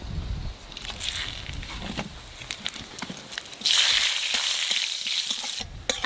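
Whole cumin seeds and bay leaves sizzling in hot oil left over from frying fish, a steady crackling hiss that swells louder partway through, with a few sharp pops and light stirring knocks in a home kitchen.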